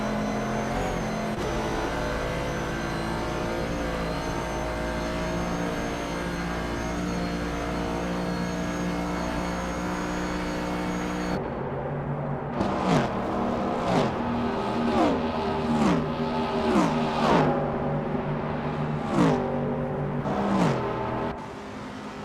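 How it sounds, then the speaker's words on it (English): A 1970 Ford Mustang Boss 429 with a 429 cubic inch V8, racing in a video game: a steady engine drone gives way to repeated revving rises and gear shifts, moderately loud and continuous. "a 1970 Ford Mustang Boss 429, known for its powerful 429 cubic inch V8 engine"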